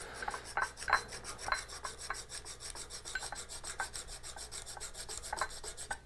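A hand file rasps in steady repeated strokes across the cutting edge of a steel auger bit being sharpened, each pass a close, gritty scrape with no voices.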